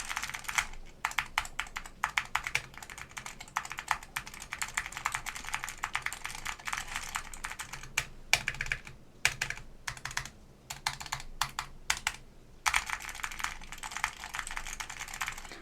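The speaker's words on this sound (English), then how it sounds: "You guys can see my horribly slow typing." Steady, fairly quick typing on a Jacky Design Hippo TKL keyboard fitted with Alps SKCL Cream switches, a continuous stream of close, crisp keystrokes with a few brief pauses.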